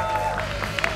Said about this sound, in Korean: 헝그랩 TV 김동규 국장님을 뜨거운 박수로 모시겠습니다